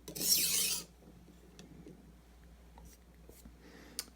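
A knife edge rasps across a sharpener to strip away the burr, one short gritty scraping stroke up front, then faint light rubs and a small tap in a quiet room.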